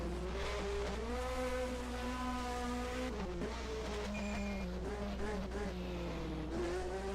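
A 1980 DRM Division 2 race car at the ADAC Bilstein Super Sprint downshifts toward a curve: its engine note drops in steps between high revs, with several distinct shifts and blips over a steady, loud roar.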